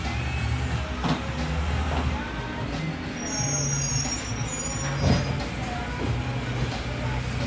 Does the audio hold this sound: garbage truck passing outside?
yes